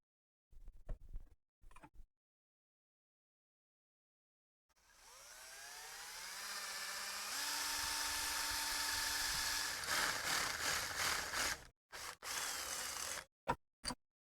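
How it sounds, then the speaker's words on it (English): A drill spins up and grinds steadily for several seconds boring a 1/4-inch bolt hole in the metal front loader of a John Deere 1025R tractor, its pitch shifting as it bites, followed by short sharp bursts and clicks. "we're going to drill a hole in here for a 1/4-inch bolt"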